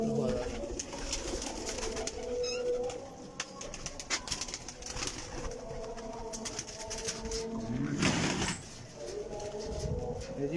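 Several kept pigeons coo in soft, repeated throaty bursts close by in a loft, with rustling and scattered knocks around them and someone talking over the birds.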